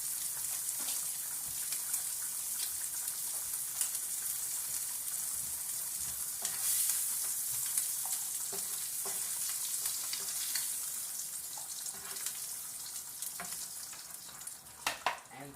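Shrimp sizzle and fry in a hot skillet in a steady close crackle, with occasional scrapes and clicks of stirring as the pan is worked; no talking.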